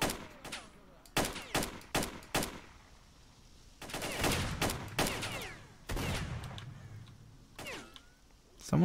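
Gunfire in S.T.A.L.K.E.R. in a fight in the Dark Valley: a run of sharp, separate shots, then a louder cluster of blasts with echoing tails, close and clear, with no talk over it.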